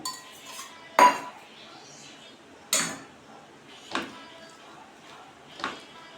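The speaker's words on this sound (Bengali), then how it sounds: "আমি কাঁচা লঙ্কা দিয়ে কাঁকড় সিদ্ধটাকে মাখলাম" Boiled teasel gourd being mashed with fried oil, onion and green chili, heard as four sharp spoon or utensil knocks against a dish at irregular intervals over a quiet background.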